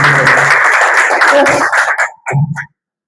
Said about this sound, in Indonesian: Kasih tepuk tangan untuk Tuhan Yesus Bapak.